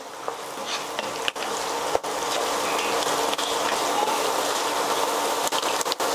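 Chana dal, urad dal and onion frying in hot oil for rava upma (uppittu), a steady close sizzle and crackle running the whole time with a few faint clicks of a spoon, no talking.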